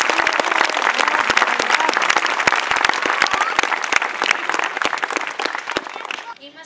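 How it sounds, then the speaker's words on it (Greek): An audience applauds at a primary school celebration in Astros, Greece, with dense sustained clapping for several seconds that stops abruptly at the end. "Ένα μεγάλο χειροκρότημα στα παιδιά που βοήθησαν σε αυτό."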